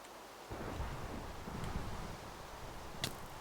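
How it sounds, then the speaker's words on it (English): Thunder from a lightning strike in Minecraft, a sudden rumbling roll with a sharp crack near the end, heard alone without voices. "I thought I was struck by lightning"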